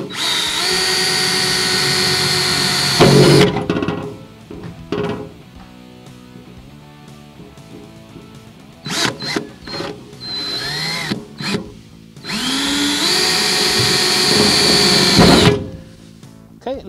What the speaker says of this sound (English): we've decided, just to be safe, that we're going to drill some pilot holes first.